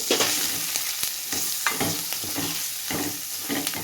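A spoon stirs and scrapes through a sizzling pan of goat head meat curry as turmeric, chili powder and salt are mixed in, giving rhythmic close strokes over a constant frying hiss.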